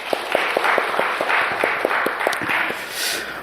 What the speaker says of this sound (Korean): 주님께 영광의 박수를 돌립시다.